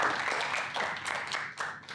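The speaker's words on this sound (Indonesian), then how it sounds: "Terima kasih Robert, tepuk tangan semuanya." A room full of people clapping steadily, moderately loud and close, with overlapping hand claps continuing throughout.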